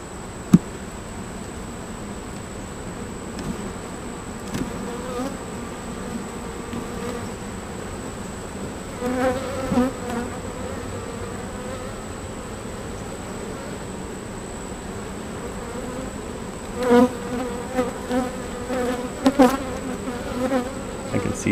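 A honeybee colony buzzes in an open hive, a dense, continuous drone that stays close. Occasional louder swells and light handling clicks come through, and no one speaks.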